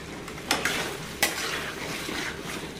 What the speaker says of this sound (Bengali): পরে একসঙ্গে ভালো করে ভেজে নেব।